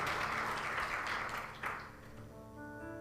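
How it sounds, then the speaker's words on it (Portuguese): Church congregation applauding the Lord Jesus during a worship service, a broad wash of clapping that fades out after about two seconds, giving way to sustained music tones underneath. "Você pode aplaudir o Senhor Jesus?"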